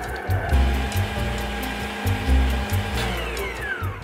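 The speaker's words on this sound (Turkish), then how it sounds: "Şimdi kapatalım ve çırpmaya başlıyorum." An electric mixer whisks labneh cheese with vanillin and honey, a close, steady whirring motor with pulsing low thumps as the beaters work through the thick mixture.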